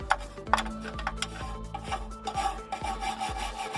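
A brush scrubs up and down across internal computer components during cleaning, making rhythmic, close, dry rasping strokes about every half second with no talking.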